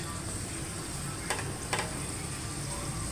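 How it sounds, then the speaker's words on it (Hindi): An egg paratha roasting on a pan over a low flame, giving a soft, steady sizzle with a couple of faint scraping touches, fairly quiet and close. "इसको मैं बिल्कुल हल्की आंच पे सेक रही हूँ"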